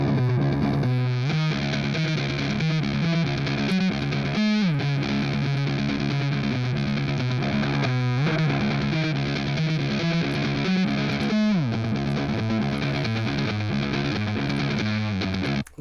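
An electric guitar played through GarageBand Amp Designer distortion, a thick, sustained overdriven tone playing a riff of repeated chords and held notes with brief pauses, loud and continuous with no talking.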